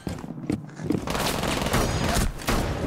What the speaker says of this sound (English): That's shotgun.